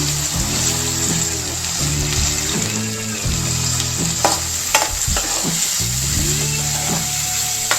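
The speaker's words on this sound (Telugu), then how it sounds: "ఆనియన్స్ బాగా వేగనివ్వాలి" Onions frying in a pan for egg pasta, a close steady sizzle with scraping stirring strokes and spoon clinks against the pan.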